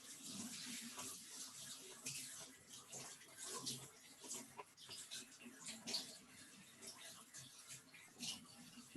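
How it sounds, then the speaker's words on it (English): Tap water runs over a celery stalk with its leaves as it is rinsed in a kitchen sink, an uneven splashing that rises and dips for several seconds, fairly quiet, with no clear talk. "wash it under the water or rinse it under the water"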